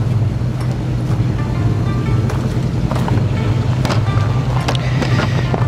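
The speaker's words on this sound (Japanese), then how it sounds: "エンジンかかりました。" Kei truck engine idling just after starting, a steady low rumble with a constant hum, heard close with gusty wind noise and occasional clicks over it.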